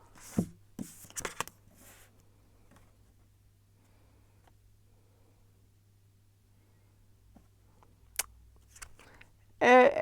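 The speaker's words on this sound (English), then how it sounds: "I'm gonna shuffle some more cards to see what the cards have to say about what your coworkers think of you." Tarot cards being shuffled by hand, with a few quick riffling and tapping bursts early on, then quiet, and a louder dense burst of shuffling at the end.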